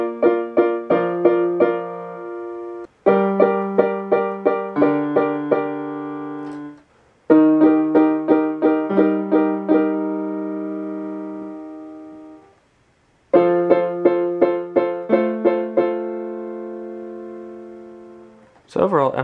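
Solo piano plays slowly and gently, with repeated, evenly spaced chord strikes that ring out and decay, short pauses between phrases, and a clear, close sound with no voices.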